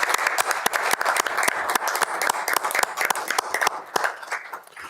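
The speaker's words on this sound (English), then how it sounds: "one more round of applause for the outgoing DAC members" A room full of people at a school board meeting breaks into steady applause, many hands clapping densely and evenly for several seconds before it starts to thin out.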